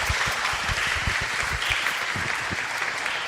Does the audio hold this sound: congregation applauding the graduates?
yes